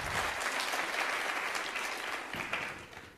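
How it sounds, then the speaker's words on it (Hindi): Audience applause at a social media convention in Jodhpur, a steady dense burst of clapping from a sizable crowd lasting about three seconds and fading slightly at the end. "है इस बात पे तो तालियां भी जानी चाहिए।"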